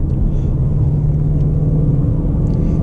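A 2020 Shelby GT350's engine hums low and steady from inside the cabin in normal drive mode with quiet exhaust, a calm, muted rumble without revving.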